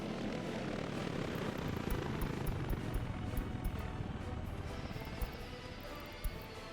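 Firefighting helicopters arrive in the Workers and Resources: Soviet Republic video game, a steady loud rotor and engine drone with rapid blade chop, close by, holding without a break and with no talking.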